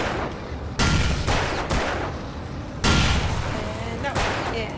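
Gunfire during an ambush in the video game Alan Wake, several loud, sharp shots in separate bursts over a roaring action backdrop.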